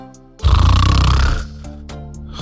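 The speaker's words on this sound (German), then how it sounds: "Schnarchen, diese oft als störend empfundene nächtliche Geräuschkulisse" A loud, deep human snore lasts about a second, rising abruptly out of quiet room tone and then fading back to a low background.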